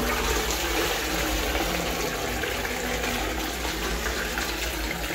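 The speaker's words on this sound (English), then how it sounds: "Alright, let's give it a flush." A hotel toilet in Paris flushing with a steady, loud rush of water that gushes continuously throughout, close by and with no talking.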